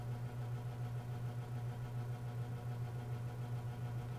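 The motor of a 1994 Holmes Slimline 20-inch box fan, model HABF-20, hums with a strong steady low drone and a faint rattle, running alone without speech.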